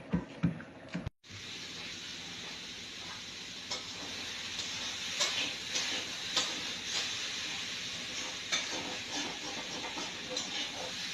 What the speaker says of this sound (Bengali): ফুলকপি রান্না হচ্ছে, ফুলকপি ভাজি